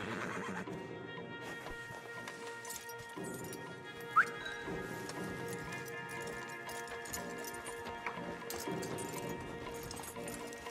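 Horses in Red Dead Redemption 2 give a faint, quiet clip-clop of hooves with a soft whinny over a low background, plus one sharp brief tick partway through.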